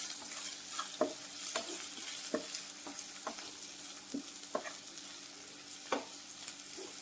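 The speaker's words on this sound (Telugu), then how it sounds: "ఇప్పుడు ఇవన్నీ యాడ్ చేసుకొని బాగా మిక్స్ చేసుకోండి." Spiced amaranth leaves and liver curry with chili powder are stirred in a pan: soft, irregular spoon scrapes and clicks over a faint, steady sizzle, with no talking.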